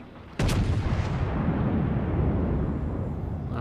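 Naval guns fire from a battleship in World of Warships: a single sharp, loud blast, then a long, dense rolling boom that lingers without voices.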